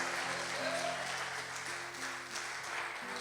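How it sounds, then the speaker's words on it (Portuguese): Church congregation clapping during a live worship service, a soft, steady wash of applause with sustained organ or keyboard chords beneath, fairly distant. "Você pode aplaudir ao Senhor?"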